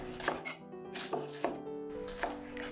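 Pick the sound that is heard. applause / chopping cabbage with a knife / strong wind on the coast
chopping cabbage with a knife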